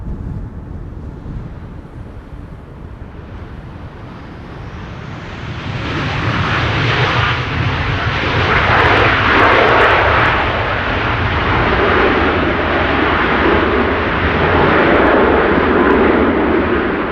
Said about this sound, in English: Embraer 190 coming in after that, arriving from Luxembourg, KLM flight 1710.